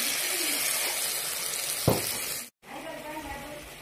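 Water poured into frying dalma masala of tomato and spices in a village kitchen: steady loud sizzle, a sharp splash and hiss near the middle, a brief cut, then quieter bubbling frying.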